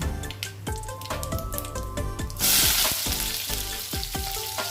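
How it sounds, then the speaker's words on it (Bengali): Bay leaf, dried chili and five-spice seeds sizzle and crackle in hot oil, with sharp popping bursts and stirring clatter, then a louder hissing surge midway, close and without talk. "এর মধ্যেই আমি একটা তেজপাতা ফোড়নি দিচ্ছি, একটা শুকনো লঙ্কা, 5 ফোড়ন দিয়ে এখন আমি পটলগুলো ভেজে নেব।"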